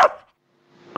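Two short dog barks come from a computer animal-sounds app, one sharp bark, a brief silence, then a second fainter one, with no voices.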